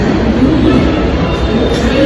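Metro train at a busy station platform in Bangalore, a steady loud rumble of rail noise with a low hum throughout, close and continuous, with faint crowd voices mixed in.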